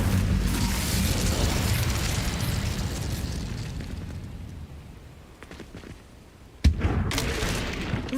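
An Incendio fire spell cast in the Hogwarts Legacy video game bursts out in a loud, rumbling blast of flame. The roar fades over several seconds, then a sharp pop cuts in and more fiery rumble follows.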